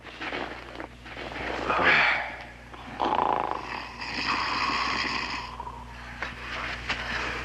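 A sleeping person snores in a television sitcom scene, giving a few rough, rasping breaths at irregular intervals over a low, steady room hum.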